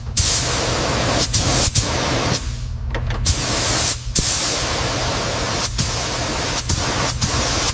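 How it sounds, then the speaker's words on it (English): Primer sprayed onto a welded boiler patch on a 1990s deep-tube metro train under restoration: a steady, loud hiss of paint spraying, broken by several short pauses between passes, with no talk. "we're laying down the first coat of primer on the boiler patch now, making sure we get full coverage over that weld seam."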